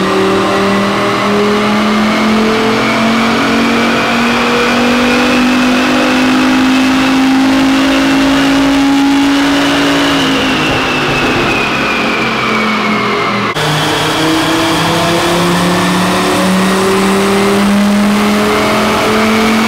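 A Volvo V70R on a dyno revs hard through a long pull, its engine pitch climbing steadily, briefly dropping, then rising again. The sound is loud, close and continuous, with no talking.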